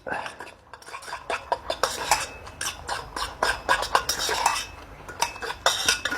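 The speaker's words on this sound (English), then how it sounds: "give that a stir. Good stir so everything's covered" A spoon stirs a chicken noodle high-protein meal replacement in a pot, scraping and clinking steadily and close by for several seconds, with faint voice sounds in the background.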